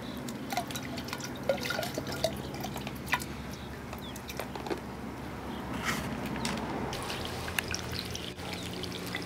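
Water from a pump flows into a fine gold recovery bowl, a soft continuous trickle and pour with scattered drips and small splashes, fairly quiet and steady throughout.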